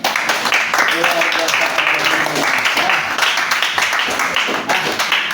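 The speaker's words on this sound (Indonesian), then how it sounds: "tepuk tangan buat semuanya" Primary school pupils in a classroom clap together in dense, continuous applause lasting several seconds, with children's voices mixed in over the clapping.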